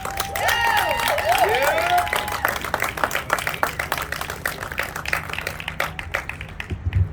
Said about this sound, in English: I want you to give yourselves a round of applause for joining us here tonight